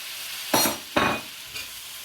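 Olive oil and pumpkin pieces are stirred in a hot pan for a steam fish recipe: three separate scraping, sizzling strokes, the first two loud and close, the last one softer.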